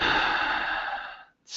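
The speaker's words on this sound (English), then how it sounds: "Take a deep breath right now." A person takes a deep breath, one long loud airy exhale lasting over a second, close to the microphone, then a brief pause and the start of another breath.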